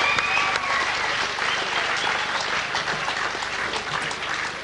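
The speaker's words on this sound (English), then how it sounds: "How about another round of applause for these two gallant warriors?" Sustained applause from a boxing crowd honoring two fighters after a five-round kickboxing championship bout, steady and dense throughout with no pauses.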